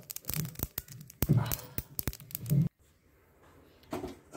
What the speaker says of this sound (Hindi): कढ़ाई में हमने सरसों लिया है और सरसों को भून रहे हैं।